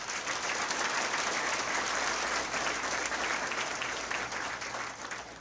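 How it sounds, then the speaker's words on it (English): A graduation audience applauds the lead EMT teacher at a Myrtle Beach Fire Department recruit ceremony, a dense steady wash of clapping from a large crowd, heard from a distance, that fades slightly toward the end. "So, round of applause for him."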